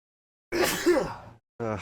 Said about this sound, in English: I indulged one sneeze and now it's gonna start